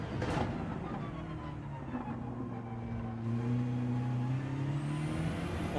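BMW race car engine in Gran Turismo 7 accelerating, a steady droning roar whose tone climbs gradually through the gears, loud and continuous with no voices.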